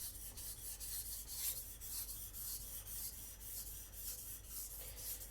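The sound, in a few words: Takamura Migaki R2 gyuto knife sharpened on whetstone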